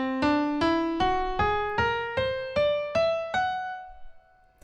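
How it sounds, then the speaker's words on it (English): A whole tone scale rises in eight evenly spaced notes, each struck note ringing with clear harmonics before the next, ending on a held top note that fades out; solo, no talk. "You'll hear a lot of 20th century music and jazz music that uses whole tone scales."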